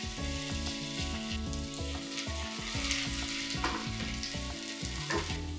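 Carrots and snow peas stir-fry in a wok, with a constant loud sizzle close by and rhythmic clanks and scrapes of tossing throughout.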